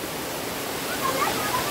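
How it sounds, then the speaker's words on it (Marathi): Loud, steady rushing of river water at a monsoon waterfall near Kolad in the Konkan, a dense continuous roar filling the whole clip, with faint thin tones rising briefly above it. "पाण्याचा इतका आवाज आहे"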